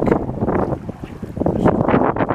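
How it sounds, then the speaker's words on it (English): Strong wind at Diana Lake roars and buffets the microphone in loud, uneven gusts, with no voices, just a continuous blustery rush. "and it's not even cold, it's just windy."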